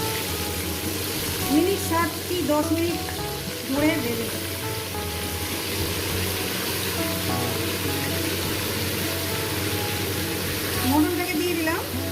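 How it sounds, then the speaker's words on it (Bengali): Mutton sizzles loudly and steadily as it fries in a pan with cumin, a constant hiss throughout with occasional stirring, while a person talks over it. "মটনটাকে সুন্দর করে একটু ভেজে নেব"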